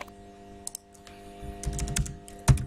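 Keystrokes tapped on a computer keyboard while entering configuration commands on a Cisco switch, a few scattered clicks early on, then a denser run of typing and a heavier final keypress, close and fairly quiet.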